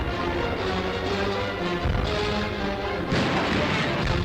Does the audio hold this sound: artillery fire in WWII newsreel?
yes